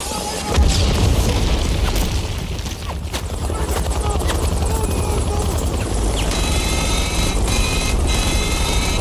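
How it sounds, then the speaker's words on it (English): A loud helicopter in a movie scene roars overhead, flying low down a street with heavy rotor thumping, joined by booming impacts and a rising whine, continuous and close. "that fucking helicopter is just coming right down the street"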